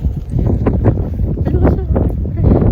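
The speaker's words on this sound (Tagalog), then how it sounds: "Grabe yung nakikipaglaban po yung hangin sa akin" Strong wind buffets a microphone on a street, a loud rough rumble over a short stretch, with a voice talking through it.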